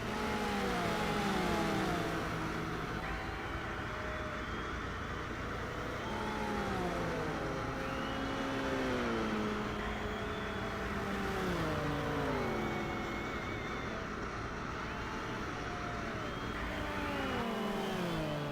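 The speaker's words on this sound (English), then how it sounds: "You can just hear all the cars whizzing past." Racing car engines in GTR 2 at the Valencia GP roar and whine past one after another, pitches sweeping up and down in a steady stream of mid-loud traffic.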